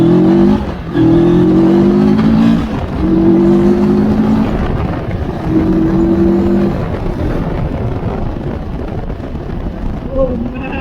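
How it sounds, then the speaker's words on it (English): A CF Moto 650 MT motorcycle accelerates hard from a standstill, its engine note rising in three separate pulls with short breaks for the gear changes, loud and close, then easing into a steadier cruise with wind noise. "So let's have a quick acceleration test."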